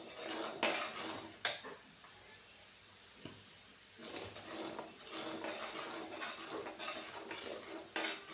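Spring onion masala with salt frying in a pan for a Maharashtrian kanda pati bhaji, with soft sizzling under repeated sharp clinks and scrapes of a spoon stirring against the metal pan, close and moderately loud.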